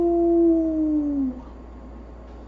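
A voice imitates a wolf howl, one drawn-out falling tone lasting about a second before a brief exclamation, close and fairly clear.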